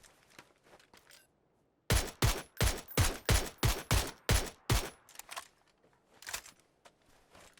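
Rapid volley of about nine loud, close gunshots in the video game PUBG, evenly spaced in a burst, followed by a few fainter shots and quieter ambient noise.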